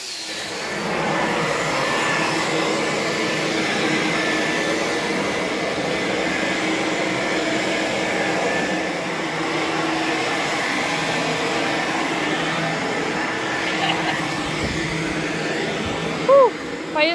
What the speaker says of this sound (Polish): Czas na odkurzanie.